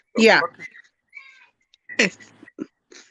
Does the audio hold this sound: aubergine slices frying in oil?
no